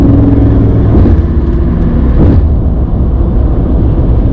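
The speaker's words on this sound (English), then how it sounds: "new car is just chewing up the miles, keeping us comfortable" Jaguar XJR sedan cruising on a highway, a steady loud interior engine and road drone with tire roar throughout, a slight swell near the middle and no talking.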